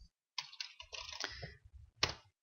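Quick keystrokes on a computer keyboard, a short burst of several close clicks followed by a single louder tap, in a quiet room.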